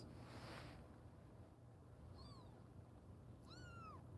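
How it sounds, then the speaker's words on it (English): Two high little kitten squeaks, the second louder and longer, rise over a constant low hum. "Can you guys hear the tiny little squeaks?"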